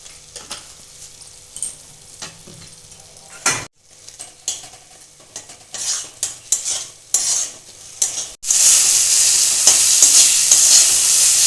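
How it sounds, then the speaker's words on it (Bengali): Spice paste with half a spoon of chili powder fries in a pan for a Bengali pea dhoka dalna, with intermittent scraping stirs and clinks of a spoon, then a loud steady sizzle takes over near the end. "এবার আমি মশলাটা কষিয়ে নেব। লঙ্কার গুঁড়োটা দেওয়া হয়নি, দিয়ে দিচ্ছি হাফ চামচ লঙ্কা গুঁড়ো।"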